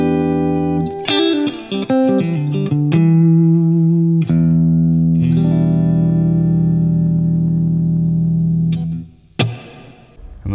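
Electric guitar notes and chords ring out through a Bugera G20 Infinium Class A tube amp head, with long sustained tones and a reverb tail, ending with a final strum.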